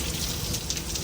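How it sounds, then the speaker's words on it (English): Rain falls at the Panama Canal, a steady even hiss of drops on surfaces, moderately loud and continuous with no voices over it. "We got Panama Canal in the rain."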